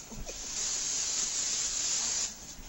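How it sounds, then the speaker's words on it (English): A store-bought spray bottle hisses in one sustained burst lasting about two seconds, close and fairly loud, after a couple of faint handling sounds. "then we take a little bit of spray, because I didn't have any time to make any, so I went to the store and bought it"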